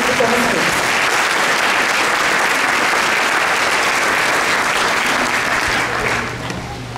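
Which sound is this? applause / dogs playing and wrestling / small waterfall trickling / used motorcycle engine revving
applause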